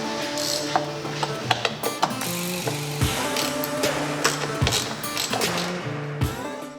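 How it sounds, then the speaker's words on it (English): A hand ratchet clicks steadily while loosening TORX head bolts from the windshield frame brackets of a Jeep Wrangler JK, repeated ratcheting strokes with brief pauses and occasional knocks, close and loud. "remove 5 TORX head bolts from the windshield frame brackets"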